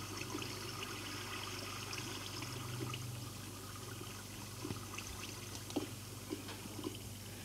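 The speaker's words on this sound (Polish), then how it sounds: "wiaderko z wodą." Water poured from a bucket in the video game Minecraft makes a continuous trickling, splashing flow, moderately loud and steady, with a few faint clicks near the end.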